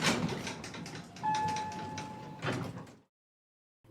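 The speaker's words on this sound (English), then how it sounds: "he pressed the button, and the doors opened immediately" Lift doors slide open with a mechanical rumble and a thin whining tone, then end in a clunk as they stop, followed by silence.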